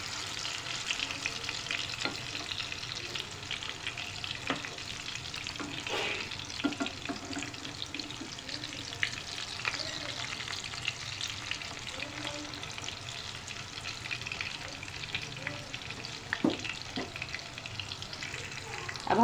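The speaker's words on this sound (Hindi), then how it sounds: "अब हम साइड चेंज करके इसको फ्राई करेंगे।" Kebabs made from raw spiced meat sizzle and fry steadily in a pan, a continuous crackling hiss with occasional sharper pops and the odd scrape of stirring, alone with no talk.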